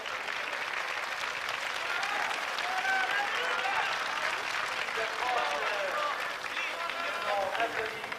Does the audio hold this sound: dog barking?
no